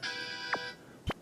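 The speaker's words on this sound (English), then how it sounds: "Sorry, folks, that was my phone." A mobile phone ringtone sounds near and fairly loud: a bright, multi-tone electronic chime holding steady for under a second and then cut off, followed by two short rising and falling swoops of sound.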